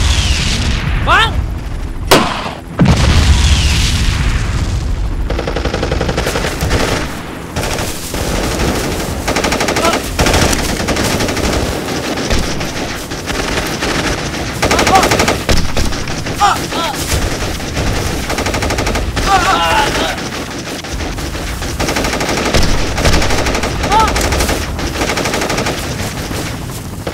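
A Vietnam War film battle scene: machine guns fire in dense, sustained bursts mixed with booms, with shouting voices heard over the gunfire throughout.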